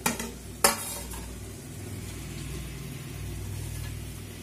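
Grated coconut stirred into a pot of cooked dal rice, with one or two sharp spoon knocks against the pot at the start, then a low, steady bubbling simmer.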